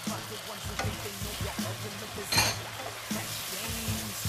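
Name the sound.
sweet corn added to beans frying in a pan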